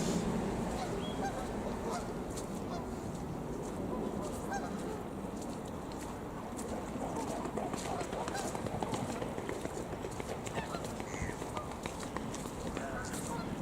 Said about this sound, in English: There goes the humble duckies.